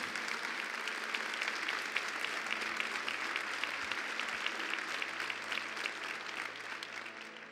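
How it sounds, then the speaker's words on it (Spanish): A church congregation breaks into strong, sustained applause during a sermon, a dense, even roar of many hands clapping that holds steady for several seconds. "Vamos a dar un aplauso fuerte al Señor."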